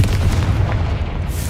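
A Confringo blasting spell explosion in Hogwarts Legacy, a loud close deep boom with a rumbling burst that fills the short moment and fades slightly toward the end.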